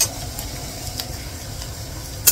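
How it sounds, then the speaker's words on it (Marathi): Chopped onion sautéing in a pan for a cashew nut curry, a soft steady sizzle with faint crackles and a few light stirring clicks, no voices. "तर कांदा चांगलासा मस्त भाजत आहे."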